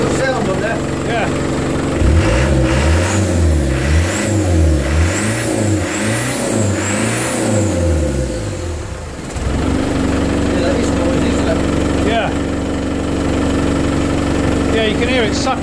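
An old engine started after a year of sitting, its intake sucking air with a deep induction note; rhythmic revving rises and falls near the microphone while people talk over it.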